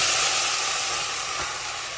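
Grated corn frying in a pan with dried chillies for a Gujarati makai chhin, an intense steady sizzle and hiss, close up, slowly easing with no voices.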